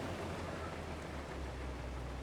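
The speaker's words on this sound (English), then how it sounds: "wait for the rain to pass" Steady rain hisses down in Farming Simulator 22 during a harvest, an even wash of noise with no breaks and no voices.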